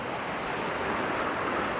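Sea waves wash onto a stone beach in Anapa on an evening, a steady broad rush of surf with some wind, close and continuous with no talk.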